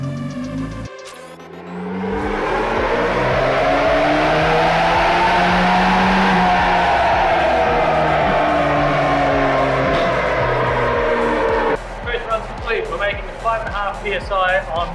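A turbocharged Toyota 3RZ engine on a dyno roars loud and close in a long sustained pull, its pitch climbing and then easing. It drops abruptly near the end to a rougher, choppier idle.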